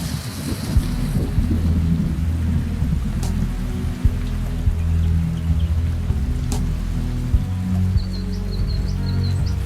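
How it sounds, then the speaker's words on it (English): Steady rain pours down with low rumbling thunder through a stormy forest in koala habitat, a continuous loud wash with a few sharp drips and faint high bird calls near the end. "When the rains come"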